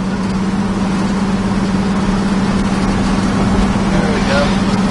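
A 1979 Dodge Li'l Red Express pickup truck's steady, low engine rumble idles continuously, loud and close, with faint background noise and no change in pace.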